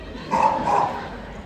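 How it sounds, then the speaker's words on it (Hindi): A pair of quick barks from a dog, loud and close, come in a short burst within a Hindi comedy show. "मेरे को देख के ना मोहल्ले का कुत्ता लोग भौंकेंगे"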